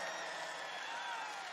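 Large crowd at a Donald Trump rally in Allentown, Pennsylvania, sending up a steady, dense roar of cheering and applause that fills the space without a break.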